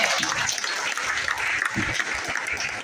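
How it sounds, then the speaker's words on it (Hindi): Audience applause for schoolchildren at a school medal ceremony, a steady dense clapping wash lasting a few seconds with a few low thumps, heard on its own without talk. "अरे बच्चों के लिए तालियां कब हो रही है?"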